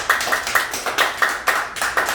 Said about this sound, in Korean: 같이 한다는 의미로 박수를 쳐주시면 너무 고맙겠습니다